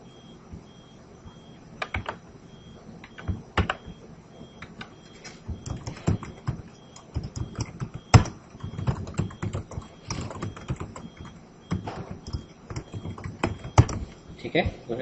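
Clicking computer keyboard keys while entering a value into an SQL table, with scattered sharp taps and short runs of keystrokes over a low room hum, and someone speaking intermittently.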